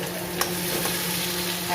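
Chopped tomatoes going into a hot pan of spices for daal dhokli, a loud, close, continuous sizzle with stirring scrapes and a couple of soft knocks, no voices.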